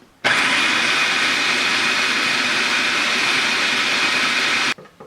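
A food processor chopping garlic and onion for fresh tomato salsa runs in one loud, steady whirring burst of about four seconds, starting and stopping abruptly, with no voices.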